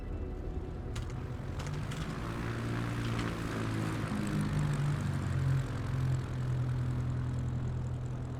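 Propeller airplane in Microsoft Flight Simulator 2024 taking off from runway 22, a steady loud engine drone with rising and shifting harmonic tones as power builds, continuous with no speech.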